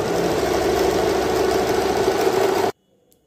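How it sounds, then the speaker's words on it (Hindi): An electric sewing machine runs a long, straight seam at a large stitch length for gathering fabric on a frilled shrug, a steady, close motor hum and rapid needle clatter that stops abruptly near the end. "बड़ा 5 नंबर का टांका करके और एकदम सीधी सिलाई डालना, बीच में रोकना नहीं है, एक ही सिलाई डालेंगे"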